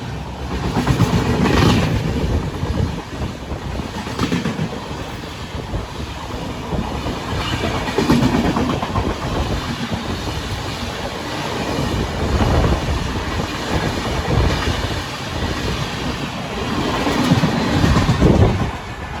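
A train runs on the Kolkata to Puri line, its loud rolling rumble steady throughout, with rhythmic clickety-clack of wheels over rail joints and occasional brief squeals, heard close and continuous with no talking.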